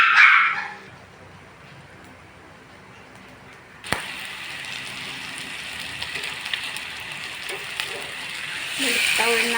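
A hungry pet dog barks in a short, loud burst at the start, near an outdoor pork barbecue. A quieter stretch follows, then a steady hiss like sizzling or rain.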